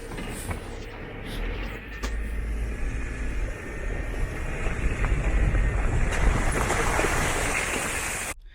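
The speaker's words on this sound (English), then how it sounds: "One of the things Onion Creek is known for is the water crossings." An off-road overlanding vehicle drives through a creek water crossing on the Onion Creek Trail near Moab, Utah, giving a rising rush and splash of water over engine rumble, with heavy wind buffeting the microphone.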